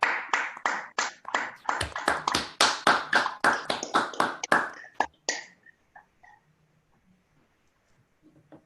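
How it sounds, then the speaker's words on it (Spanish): At an academic talk, a small audience gives sparse applause: a handful of distinct, close claps in a quick run for about five seconds, then it stops and the room falls nearly silent. "le agradecemos con aplausos a María"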